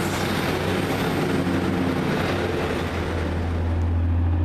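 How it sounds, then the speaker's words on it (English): A Northern Rail passenger unit, class 152, pulls out of a station on the Blackpool and Preston to Hazel Grove service, giving a steady loud rumble with a low engine drone throughout and no talking. "Leaving the slightly delayed, well, by 15 minutes I should say, 1356 Northern Rail service from Blackpool, Preston to Hazel Grove"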